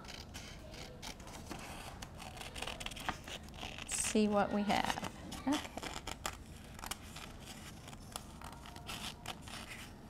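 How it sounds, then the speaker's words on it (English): Small child's scissors snip and crinkle through paper at a nature reserve, a short burst of crisp cutting close to the microphone, surrounded by people talking nearby. "there are the scissors right there. So we cut that out"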